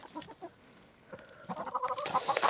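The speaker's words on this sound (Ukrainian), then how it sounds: "Ох, молодці курки." Chickens and a rooster cluck and chatter close by in short, uneven bursts, growing busier and louder toward the end.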